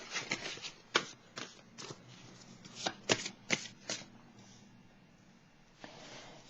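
Tarot cards handled and shuffled before one is drawn, a soft papery riffling with several crisp flicks, close and quiet, with no talking.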